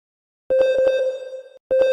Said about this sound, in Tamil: யார் ஃபோன் அடிக்கா அத்தை தான் ஃபோன் அடிக்காங்க